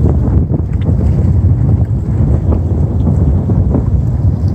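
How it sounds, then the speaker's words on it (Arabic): Strong wind buffeting a microphone at a seaside fishing spot, low rumbling gusts that roar loudly and unevenly throughout, with no talk. "كتسمعوا هذا الريح"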